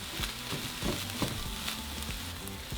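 A chicken mixture sizzles in a pan while being stirred, with a continuous close hiss of frying broken by scraping and knocking of the utensil against the pan.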